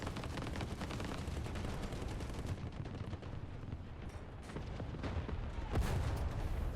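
Sustained tank gunfire and explosions in the War Thunder match with a Leopard A1A1 L/44, dense broadband booms and crackling shots layered continuously, loud and busy, with a heavier blast near the end.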